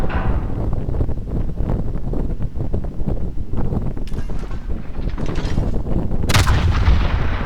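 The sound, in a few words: warship guns firing in the video game World of Warships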